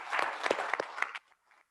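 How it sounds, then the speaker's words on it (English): An audience at a meet-the-candidates forum applauds: a short burst of many clapping hands, close and moderately loud, that stops abruptly after about a second, leaving near silence with a few faint stray claps. "Can we give it a round of applause for Jeannie,"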